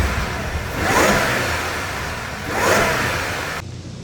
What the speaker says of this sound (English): Intakes are an easy way to make your car sound a lot better with that awesome induction noise.